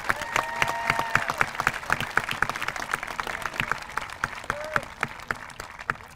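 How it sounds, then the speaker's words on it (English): An audience at a school promotion ceremony claps steadily, a dense patter of many hands with scattered sharper claps and a few faint whoops, sustained throughout. "Could we all have a round of applause for Mr."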